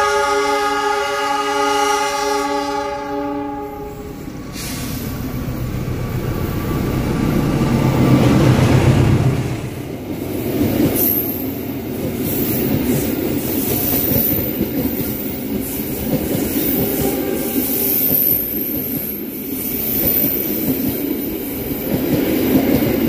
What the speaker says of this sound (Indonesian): Kereta api Lodaya sorot lampunya sudah terlihat